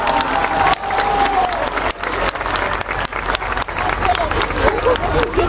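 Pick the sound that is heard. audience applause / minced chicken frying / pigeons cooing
audience applause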